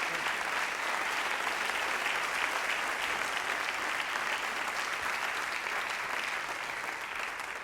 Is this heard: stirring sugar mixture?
no